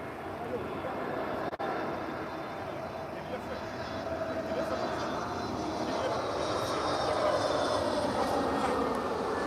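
A jet airliner landing at Lisbon airport, a steady distant engine roar that swells slightly toward the end, heard alone with no voices.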